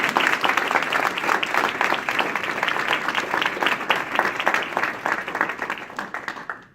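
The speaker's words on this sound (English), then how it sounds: "Please give our graduates a round of applause." Audience applause for graduates at a ceremony on Joint Base San Antonio-Lackland, Texas, a sustained crowd clapping that stays loud, then tapers off at the end.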